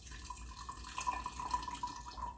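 Juice poured into a glass through a strainer, giving a thin, steady trickling stream with faint splashes, close and quiet, with no voices.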